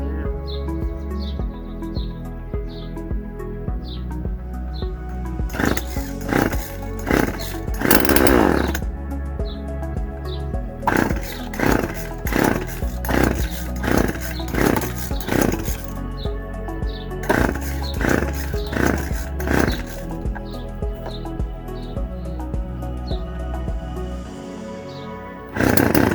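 A small garden chainsaw runs with a steady engine drone, revving in bursts with sharp rises and drops, loud and close, cutting out briefly at the end.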